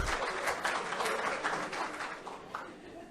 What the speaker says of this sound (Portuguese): Palmas parciais, ainda acanhadas, regidas pelo medo.